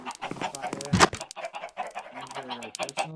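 Chickens cluck and squawk in a pen on a video game server, busy, choppy calls running throughout with a sharper squawk near one second and a voice talking underneath.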